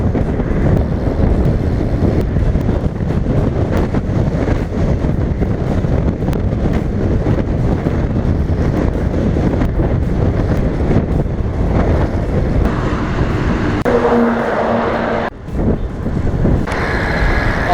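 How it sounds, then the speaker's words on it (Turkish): Loud, steady headwind roar buffets a cyclist's microphone on a downhill road ride near Izmir, Turkey, a constant low rumble with gusty fluctuations and no voices. "rüzgar karşıdan estiği için"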